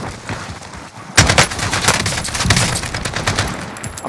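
AK-47 automatic fire in Warzone, a dense, loud burst of rapid shots that starts abruptly after a second of quieter game noise and continues steadily to the end.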